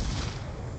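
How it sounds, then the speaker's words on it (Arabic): A flashbang grenade goes off in a first-person shooter video game, giving a dense, loud burst of harsh noise that fills the whole short moment without a pause. "رمي قنبلة ضوئية."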